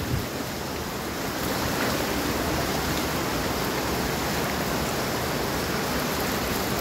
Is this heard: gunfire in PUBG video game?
no